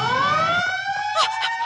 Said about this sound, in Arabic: إنها دورية الشرطة.